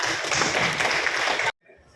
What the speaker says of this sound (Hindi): सही ताली बजा दो आप लोग ना